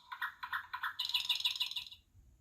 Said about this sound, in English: birds sang sweetly